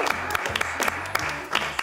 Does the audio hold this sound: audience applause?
yes